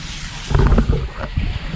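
Hot spring water pours steadily into a bathing tank at the Rajapur hot water kund, a continuous broadband rush that swells slightly midway and holds on without pause.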